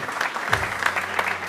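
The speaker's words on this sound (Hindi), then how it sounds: "इनके लिए बहुत सारी तालियां।" A studio audience on a morning TV show claps, a brief burst of steady, moderately loud applause from a crowd.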